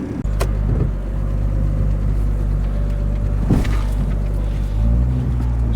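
A Jeep XJ fitted with a 4-link coil-spring rear suspension conversion crawls off-road, its engine a steady low rumble close by, with a couple of brief knocks and clunks from the rough terrain along the way.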